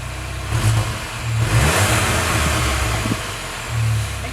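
An MK7 VW Golf GTI fitted with an AWE exhaust revs close by. A gurgling engine note climbs and falls in several short blips over a low idle.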